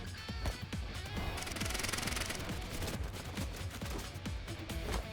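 Bursts of rapid gunfire rattle in the AI: The Somnium Files - nirvanA Initiative video game, sharp repeated shots with a dense automatic volley in the middle, over a low game soundtrack.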